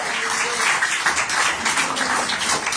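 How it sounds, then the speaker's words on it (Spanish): Church congregation applauding during a sermon, a dense patter of many hands clapping together with voices calling out over it, sustained throughout. "Denle un aplauso a Dios, por favor, hermano."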